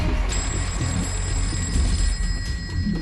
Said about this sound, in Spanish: esa vez nadie respondió al teléfono